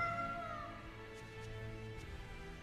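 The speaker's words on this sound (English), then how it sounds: "Hey, we got a cat." Cat meowing in the fantasy video game Tales of Berseria, a couple of short mewing calls sitting over game music and ambient background, moderately clear and close.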